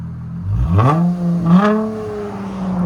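A 2003-2009 Toyota 4Runner's 4.7L V8 on straight pipes revs twice in quick succession, each blip rising sharply and settling back to a loud, rumbling idle, close and with no talk.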